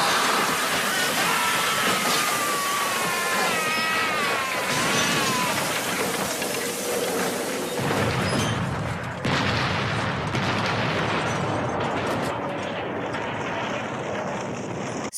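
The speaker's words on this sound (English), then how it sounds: "The car goes airborne and explodes." A car crash and explosion from an action movie, with a long, loud, dense roar of noise, screeching tones early on and a deep rumbling blast that shifts abruptly partway through.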